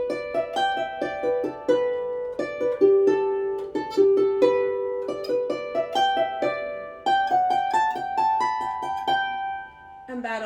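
Melody notes pick out the B part of a traditional Irish session tune, quick and steadily rhythmic, ringing clearly on their own until a short pause at the end.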